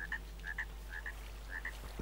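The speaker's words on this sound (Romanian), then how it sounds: "Aud broscuțe." Frogs croak in the Minecraft Hexxit modpack, four evenly spaced pairs of short bright chirps over steady low background hum, fairly faint and with no talking.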